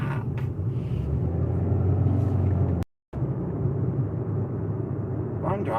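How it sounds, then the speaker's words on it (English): Steady low road rumble inside a moving car, continuous apart from a brief dropout midway, with faint cabin noises near the end. "I'm driving."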